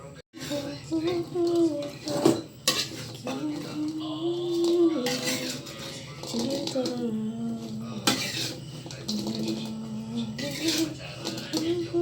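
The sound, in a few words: stirring food in a pan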